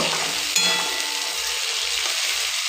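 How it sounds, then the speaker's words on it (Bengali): Chopped onion, ginger, green chilli and garlic frying in hot oil, a close, even hiss of sizzling with faint crackle and no voices. "তেল গরম হয়ে গেছে, এতে পেঁয়াজ কুচি দিয়ে দেবো।"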